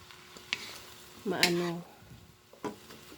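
A spatula stirs sautéed bottle gourd (upo) in a pan. Close scraping strokes sit over a gentle sizzle, with a short murmur of voice partway through.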